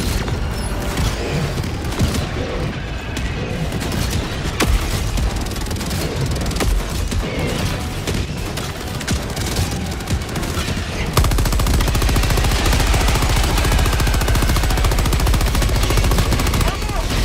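A sentry gun in the game Helldivers 2 fires continuously. The dense, loud automatic fire runs the whole time, layered with booms, mechanical clatter and battle noise, with no break in the barrage.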